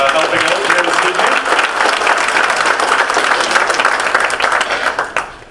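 A banquet audience at a May Day celebration gives a loud, sustained round of applause for community volunteers and recreation staff, many hands clapping densely at close range before it cuts off abruptly.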